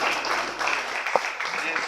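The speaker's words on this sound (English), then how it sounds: "Let's clap for Emma." Audience applause at a hypertension and diabetes awareness campaign event, a dense steady wash of clapping from a crowd with a voice faintly under it.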